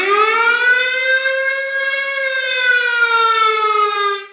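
An air raid siren wails steadily over a city under attack at night, a single loud sustained rising and falling tone that cuts off at the end, with no other sounds.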